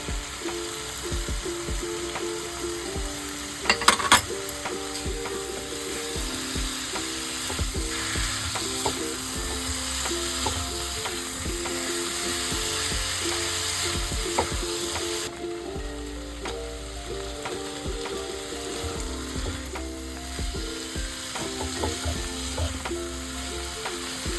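Spices sautéing in oil in a pan for a Bengali tangra fish curry with brinjal and drumsticks, a steady close sizzle with occasional spoon scrapes and clinks throughout, no talking.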